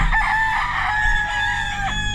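A rooster crows loudly and close by in a backyard farm, one sustained call with clear harmonic tones, against steady background noise.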